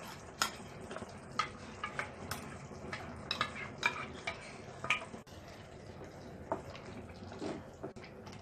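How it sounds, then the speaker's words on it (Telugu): Baby corn masala curry with cashew paste stirred in a pan, with repeated scraping strokes and clinks of the spoon against the pot over a soft sizzle, close and steady. "కలుపుతూ 2 మినిట్స్ ఉడికించుకోవాలి."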